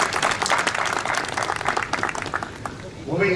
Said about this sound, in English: Let us applaud ourselves